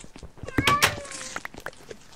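Cat meowing in the Minecraft video game, a few short, close, fairly loud meows in quick succession with faint game sounds around them.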